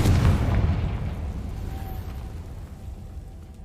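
A Confringo explosive spell cast in Hogwarts Legacy, a single heavy booming blast at the start that decays into a fading low rumble.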